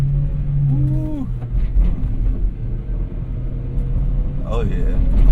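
A small Japanese Kei truck engine drones and rises in pitch as the driver downshifts and accelerates, steady rumble from inside the cab with a brief gear-change dip, and people talk over it.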